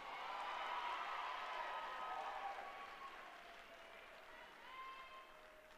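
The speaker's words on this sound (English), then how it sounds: "Ladies and gentlemen, give a round of applause for your vault champions this afternoon" Crowd applause at a college women's gymnastics meet for the vault champions, a steady wash of clapping from a large arena audience, fairly distant, with an announcer's voice carrying over it and the applause slowly tapering.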